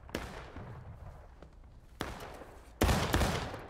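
Rifle gunfire in the Civil War game War of Rights: a steady crackle of distant shots, then sharp volleys near 2 seconds and a loud, close burst near 2.8 seconds that rings on.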